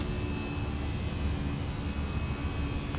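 Airbus A320 jet engines spool up on the takeoff roll in Microsoft Flight Simulator 2024, a steady loud broadband roar with a faint high whine, continuous throughout.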